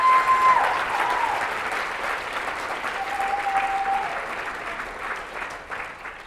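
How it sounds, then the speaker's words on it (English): Sustained audience applause at a Los Angeles Z-Day talk, steady dense clapping filling the whole stretch with faint voices or whoops rising briefly above it. "Let's give them a round of applause"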